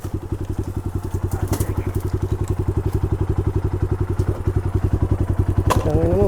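A motorcycle engine thumps in a steady, rapid rhythm close by, loud and continuous with a short rev near the end, at a camping trip in Zambales.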